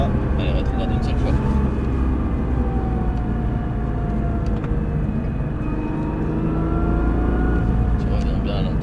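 Nissan GTR on the Albi circuit, a loud steady engine roar with tonal sweeps as it brakes hard and downshifts once, heard from inside the car while someone speaks over it.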